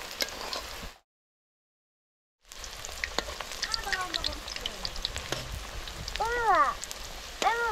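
Malabar spinach leaf fritters (bora) dropped into hot oil sizzle and crackle steadily, with a brief silent gap before the frying resumes and a voice speaking in the kitchen.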